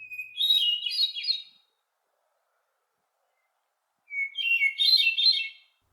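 A Carolina wren sings two clear, rolling bursts of rapid repeated phrases, close and bright, separated by a few seconds of silence.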